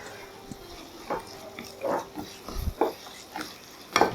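Curd being stirred into a white mutton curry in a pot, with soft scraping and wet mixing strokes coming in irregular bursts, close and moderately quiet, no talking.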